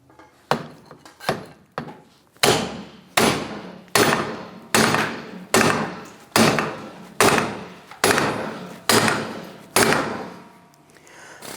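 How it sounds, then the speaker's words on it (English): Heavy hammer blows on a CV joint to pop it off the drive shaft of a 2002-2008 Dodge Ram 1500, about a dozen loud, ringing strikes at a steady pace, each decaying briefly before the next, close by. "We're going to try and hit down on this side here to try and pop this off of the drive shaft."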